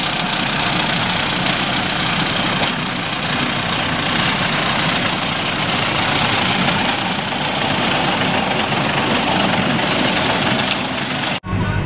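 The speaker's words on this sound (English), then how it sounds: "This is how I drive my tractor." A John Deere tractor engine runs steadily with a rough, knocking mid-low rumble, loud and close for the whole stretch, cutting off abruptly at the very end.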